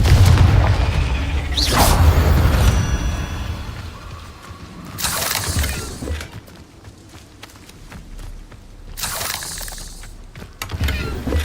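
The Confringo fire spell in Hogwarts Legacy goes off as a heavy magical blast with a deep boom and a noisy burst, followed by rumbling and clattering debris, then a second burst near the end.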